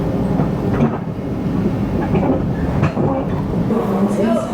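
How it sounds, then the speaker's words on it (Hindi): Interior of a local commuter train in New York riding along, with a continuous loud rumble and rhythmic rail clatter, no talking. "ये यहाँ की लोकल सिटी के अंदर चलने वाली ट्रेन है।"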